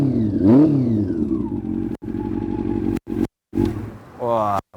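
A Honda CB400 four-cylinder motorcycle with an SHC aftermarket exhaust is revved in sharp blips, its rising and falling howl broken by brief silent gaps, heard close up.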